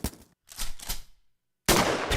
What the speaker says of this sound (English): There you go. Gun noises.